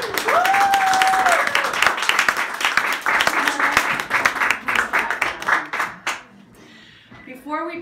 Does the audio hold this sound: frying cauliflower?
no